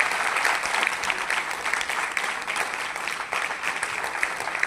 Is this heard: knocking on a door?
no